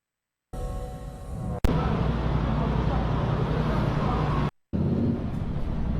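A loud motorcycle engine runs close by, rising in pitch before dropping into a harsher roar; its drone cuts out twice briefly as the gears are shifted.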